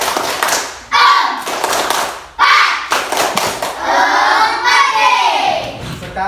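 A class of grade 4B schoolchildren in an Indonesian primary classroom claps in short rhythmic bursts, loud and close, with several pauses between rounds and children's voices mixed in.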